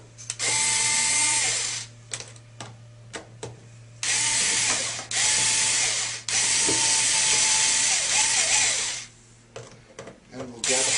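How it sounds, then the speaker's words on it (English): Power driver running #2 Phillips screws into sheet metal while fitting DORMA M9953 inside door trim: several sustained whirring bursts of a couple of seconds each, separated by short pauses and small clicks, close and fairly loud. "And we'll get those two screws installed on the top and the bottom."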